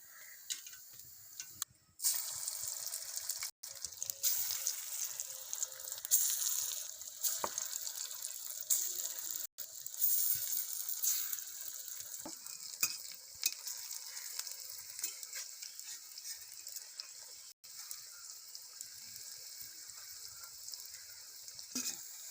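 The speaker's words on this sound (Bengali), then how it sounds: "ডাল বড়াগুলা লাল মুচমুচে করে ভেজে নেব।" Lentil fritters made from masoor dal deep-frying in hot oil until crisp, a loud, steady bubbling sizzle that runs throughout with occasional stirring scrapes, close up.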